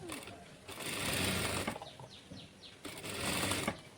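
Sewing machine stitching a frock from silk saree fabric, running in two bursts of rapid whirring with a pause between, close by, with a voice speaking over it.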